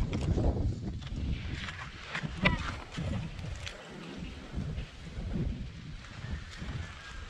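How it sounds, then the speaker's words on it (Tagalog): Heavy rain falls along a muddy road construction stretch between Tiaong and Tayabas in Quezon, a steady dense hiss with low rumbling gusts, fairly faint and continuous. "lumakas na ang ulan"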